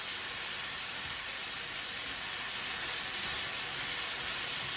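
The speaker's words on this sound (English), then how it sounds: "I'm just going to let that saute for a little bit so it gets tender" Vegetables sauté in a pan for cheesesteak pasta, giving a steady, even sizzle and hiss that runs throughout, close and fairly loud, with no talking.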